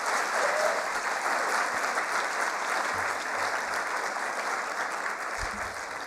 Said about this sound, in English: A big round of applause, I think, for all of them again